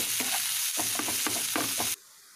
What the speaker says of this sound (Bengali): পেঁয়াজটা ভালো করে ভেজে নেবো বাদামি করে